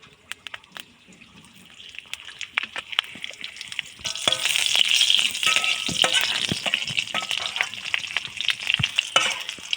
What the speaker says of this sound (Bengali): পাঁচফোড়নটা বেশ ভাজা হয়ে এসছে, এখন আমি একটু তেল অ্যাড করে দেবো